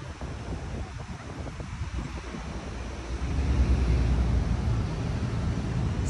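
Strong typhoon wind gusting over Manila Bay, a broad low roar buffeting the microphone with surf-like rushes, growing louder and steadier halfway through, with no voices.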